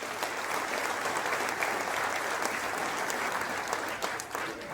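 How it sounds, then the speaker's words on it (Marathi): A large crowd at a political gathering in Kolhapur claps loudly and continuously for Sanjay Bhau Vibhute and his team, a dense, even wash of applause throughout. "खरं तर सर्वप्रथम जोरात टाळ्या संजय भाऊ विभूते आणि त्यांच्या टीम साठी झाल्या पाहिजे."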